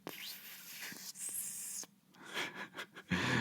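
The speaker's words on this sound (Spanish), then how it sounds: "Este es el ruido de mi de mi vaso térmico para el té" Faint, breathy hissing and airy sputters from a sealed thermos cup of very hot water for tea, rising and fading in short bursts, close and quiet.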